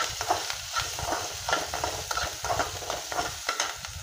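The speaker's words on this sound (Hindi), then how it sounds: "और इसको अच्छे से भूनना है।" Chopped onion and green chili sautéing in a pan, with steady stirring scrapes over a soft continuous sizzle, close and alone.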